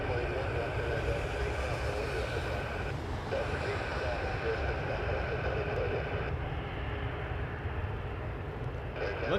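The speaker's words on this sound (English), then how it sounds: "Alright, we got a takeoff roll." Airplane on its takeoff roll at Toronto Pearson Airport, a continuous heavy engine roar with broad rumble heard from a distance, steady and loud throughout.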